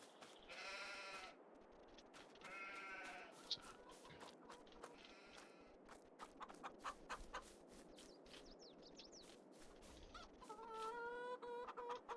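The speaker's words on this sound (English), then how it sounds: "I do have chickens and sheep right now." Sheep bleat and chickens cluck on a farm in the Silverrun video game, quiet repeated calls scattered among clicks and soft background sounds, with a voice talking over parts of it.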